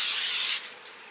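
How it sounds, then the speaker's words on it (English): Nonstick cooking spray hisses into an 8x8 casserole dish in one short, close, steady burst about half a second long, then cuts off and leaves faint room noise. "I'm going to spray it with some nonstick cooking spray"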